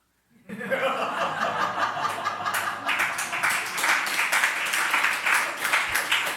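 A church congregation claps during a Sunday sermon after a moment of silence: a steady round of clapping from many hands, mixed with light chuckling.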